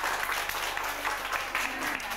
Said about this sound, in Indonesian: Jadi kita tepuk tangan ya.